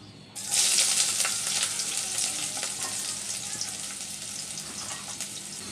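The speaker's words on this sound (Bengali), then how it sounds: "পরিমাণ মতো তেল দিয়েছি অল্প রসুন কুচি আর পেঁয়াজ কুচি দিয়ে দিচ্ছি" Chopped garlic and onion hitting hot oil in a pan, a sudden loud sizzle that settles into steady close frying crackle, with no voices.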